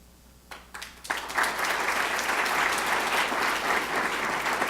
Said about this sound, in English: we can applaud them all.